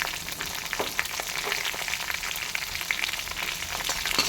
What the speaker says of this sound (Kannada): ಮೆಣಸಿನ್ಕಾಯಿ ಸ್ವಲ್ಪ ಫ್ರೈ ಆದಮೇಲೆ